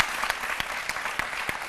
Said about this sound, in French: les Ivoiriens, il faut les applaudir, ils sont formidables